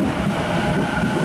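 A Sydney Waratah electric train at Milsons Point station gives off a steady, close rumble of wheels and motors with no pause or voice over it.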